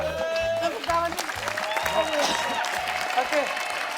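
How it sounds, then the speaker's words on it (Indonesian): Studio audience applause on an Indonesian TV game show, moderate and steady, with a rhythmic musical beat and voices running underneath. "Tepuk tangan nih."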